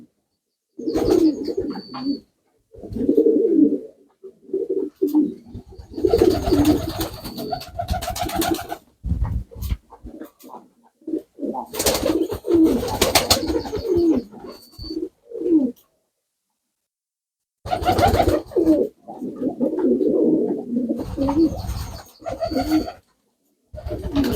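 Pigeons coo repeatedly up close, deep throaty rolling calls in several bursts separated by short silences.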